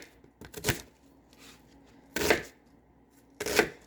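Knife chopping an onion on a cutting board: three separate bursts of firm, close cuts spaced over a few seconds, with quiet gaps between them.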